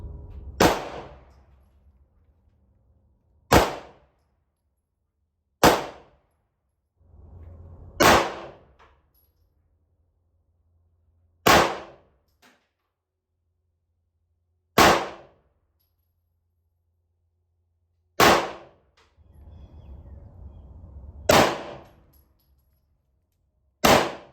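Pistol fired at an outdoor shooting range while testing an Aimwin PN320 red dot sight, eight sharp single reports spaced a few seconds apart, with quiet rustling between shots.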